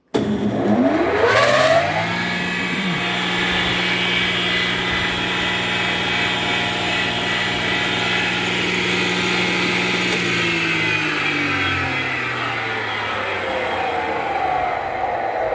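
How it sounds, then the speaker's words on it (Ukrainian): A homemade circular saw, built together with a jointer, starts up and spins at steady speed, its motor whine rising quickly and then holding a loud, even hum with a faint drop near the end, with no talking. "Зараз запускаємо і дивимося, в яку сторону крутиться у нас сама пила."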